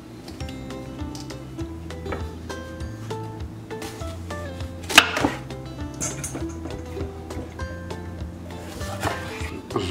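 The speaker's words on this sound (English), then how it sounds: "Let's start slicing our peppers." Bell peppers sliced with a knife on a cutting board for a Hungarian letcho stew, giving soft repeated cuts and board taps amid kitchen clatter, with one sharper knock midway.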